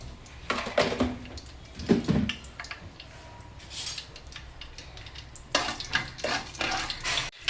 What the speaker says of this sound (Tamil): இப்போ வந்து கடுகு வெந்தயம் பொரிஞ்சிருச்சு.